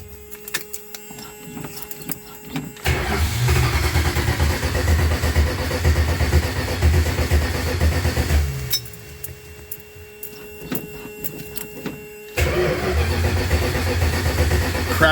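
A carburetted Ford Duster with an old battery cranks and fires in repeated tries, with a whirring, rumbling engine run broken by pauses and a restart, close and fairly loud.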